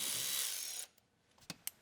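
A ratchet loosens a 10mm bolt on a Tesla Model 3 bumper, heard as a close, quiet burst of rapid clicking that stops abruptly, followed by a couple of faint taps.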